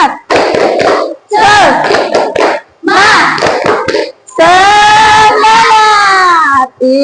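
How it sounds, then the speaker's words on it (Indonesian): Classroom schoolchildren perform a rhythmic spirit clap, short bursts of patterned clapping alternating with loud group chanting and shouting, close and energetic, ending in a sustained voiced cheer. "Ayo, kasih tepuk semangat dulu."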